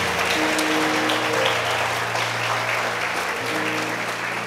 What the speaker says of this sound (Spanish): Denle un aplauso a Jonathan.